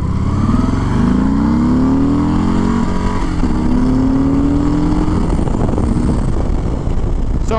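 A 2021 Harley-Davidson Sport Glide motorcycle pulls away from a stop, its loud, close V-twin engine rising in pitch through the gears, with steady wind noise and no speech.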